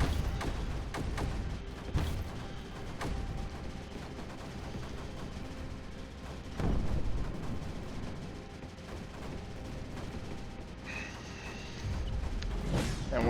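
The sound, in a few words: cannons and mortars firing in the video game Creeper World 4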